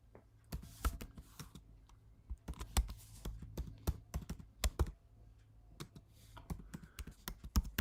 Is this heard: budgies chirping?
no